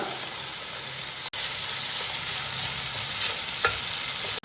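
Onion, ginger, garlic, green chilli and curry leaves fry in hot oil for a chicken curry, a loud continuous close sizzle with a couple of brief cuts and stirring scrapes.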